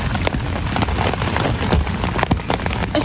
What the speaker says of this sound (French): c'est aujourd'hui qu'il pleut